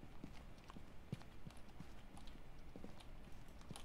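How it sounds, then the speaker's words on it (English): Footsteps sound in the horror video game Phasmophobia as a series of soft, irregular thuds and taps, faint and fairly distant, over a low steady background hum. "I hear footsteps."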